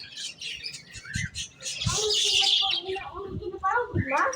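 Small caged birds resembling lovebirds, kept among ornamental plants at a church in Tenkasi, give repeated high chirps and tweets with a dense burst of calls midway, close by, while people talk nearby.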